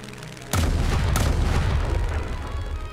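In an animated war scene, bombs dropped by warplanes onto a train explode in two heavy booms close together, followed by a loud rumbling roar that slowly fades.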